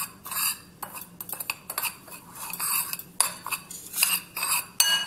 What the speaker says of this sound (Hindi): तो इसे डालकर इसे अच्छी तरीके से इस तरह से मिला लेना है।